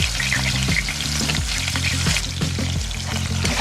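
Vegetables sauté in hot oil in a pan for a pork belly stew, a steady close sizzle and crackle running throughout, with a few soft clinks of stirring.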